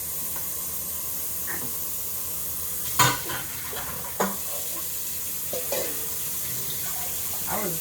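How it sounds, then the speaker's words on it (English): Water runs from a kitchen faucet into a very large pot, a steady hiss throughout with a few clunks and knocks. "all the water from the faucet just went right into the pot."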